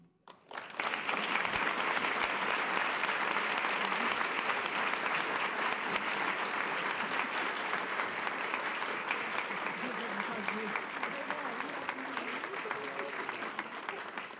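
An audience at a women's awards ceremony in San Luis Obispo County applauds an honoree, with dense sustained clapping that starts abruptly and stays loud throughout, over faint crowd murmur.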